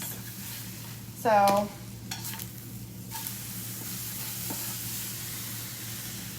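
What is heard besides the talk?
eggs frying in a pan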